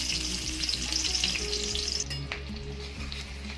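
Chopped onion sizzles loudly in hot oil with sugar for a mustard rohu fish curry, a steady dense frying hiss with a sharp burst as the onion hits the pan midway, no talking.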